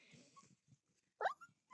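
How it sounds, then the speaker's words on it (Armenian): A puppy gives a single sharp, high yip-like bark near the mic, with faint soft noises and quiet pauses around it; a brief second yelp follows at the end. "Այս միտիքայինն էլ ոնց է հաչում"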